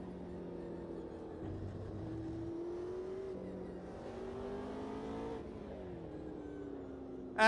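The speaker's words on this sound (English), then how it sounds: "We're kind of hitting the rev limiter here." A race car engine in the racing game Project Motor Racing drones at high revs and bounces against the rev limiter in a steady, buzzing, close whine with pitch shifts, and nobody talks.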